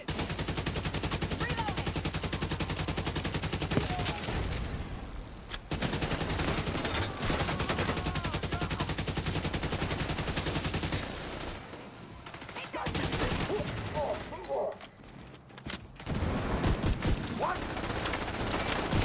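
Video game firefight with near-continuous rapid gunfire and explosions over nearly twenty seconds, pausing briefly a few times, with a player's voice talking at points.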